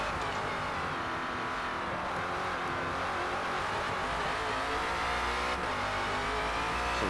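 A Ford Falcon FG X race car engine snarls and shifts down through the gears on the Nordschleife in Forza Motorsport, a continuous rasping drone that rises and falls with revs, with faint tire noise and no talk.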